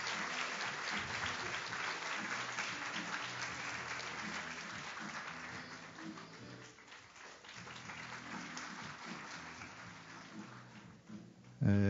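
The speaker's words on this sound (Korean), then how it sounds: "큰 박수로 환영해 주십시오" An audience at a forum session in Jeju applauds to welcome an actress to the stage, with dense continuous clapping that dips briefly and then picks up again, with voices faintly underneath.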